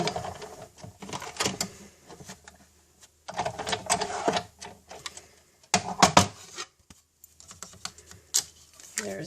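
A craft mask is cranked through a manual die-cutting machine, close by and alone: several bursts of dense clicking, rattling mechanical noise separated by brief pauses, with no talking.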